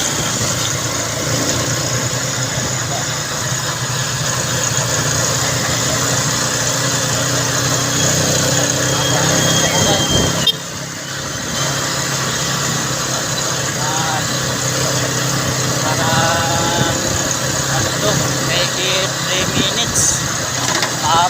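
A Motorstar motorcycle engine idles steadily and loudly up close in Masbate, a continuous mechanical drone with a brief dip midway and faint voices in the background.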